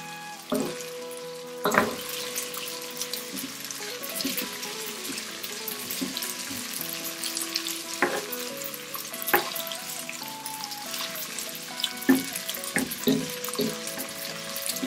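Cooked spaghetti is tossed in a pan with olive oil, garlic and chili, a soft continuous sizzle broken by repeated clinks and scrapes of the utensil against the pan, close and fairly quiet, with no talking.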